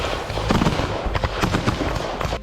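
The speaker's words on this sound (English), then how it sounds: "gunfire and explosions shattered the quiet streets" Rapid bursts of gunfire and explosions during a special forces assault near Zaporizhzhia in Ukraine, loud dense crackling and booming cracks in quick irregular succession, with no voices.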